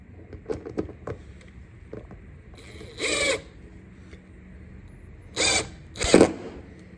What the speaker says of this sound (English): Grab the impact, come on it slowly.